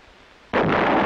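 Field artillery firing, as from a self-propelled 8-inch howitzer M110: one sudden loud blast bursts in halfway through and rolls on as a sustained roar after a quieter lead-in.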